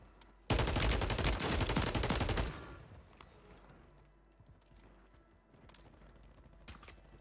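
Loud, dense gunfire rattles in Call of Duty Warzone for about two seconds, then fades to scattered quieter shots and mechanical clicks.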